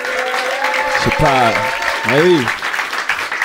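A comedy club audience at the Paname Comedy Club in Paris applauds steadily throughout, while a voice talks over the clapping partway through.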